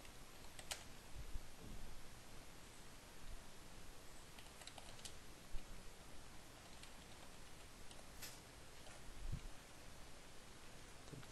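Computer keyboard typing while writing a web page's meta description tag: soft, steady key clicks close by, with a few sharper taps, alone and faint against background hiss.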